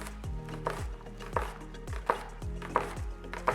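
A knife chops an onion into strips on a cutting board, about six crisp, evenly spaced thuds in a steady rhythm, close and fairly quiet with no talking.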